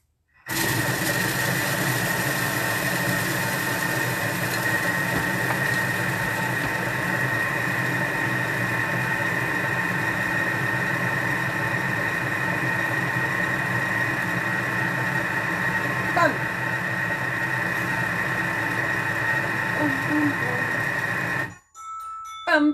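A kitchen food processor runs at speed 4 for about twenty seconds, mixing almond cream for a galette des rois. The motor whirs steadily and loudly, then winds down abruptly at the end.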